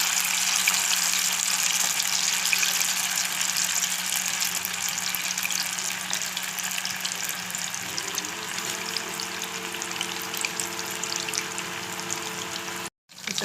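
Chicken 65 pieces frying in oil on a low flame, a soft, even bubbling hiss that runs steadily throughout with a faint hum beneath and a momentary dropout near the end.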